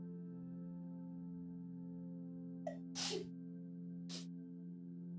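A single sharp human sneeze with a short gasping intake just before it and a fainter second burst after, set over a steady tonal background hum with no speech.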